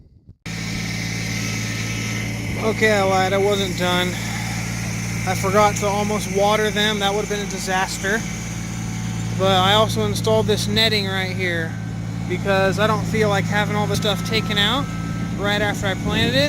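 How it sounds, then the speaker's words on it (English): Tractor engine idling nearby, a steady low rumble running throughout beneath someone talking close up in a garden. "The noise you hear behind me is the tractor."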